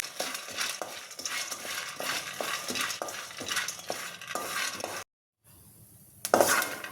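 Peanuts dry-roasting in a pan are stirred with a steady scraping rhythm, repeated soft clatters and rattles close by, then a brief pause before a louder scrape.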